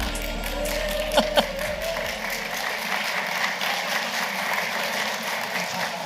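An audience at a university updates gathering claps steadily throughout, a sustained wash of applause over a low rumble that fades early on.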